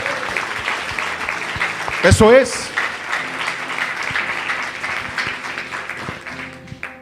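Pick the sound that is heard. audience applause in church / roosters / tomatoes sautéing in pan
audience applause in church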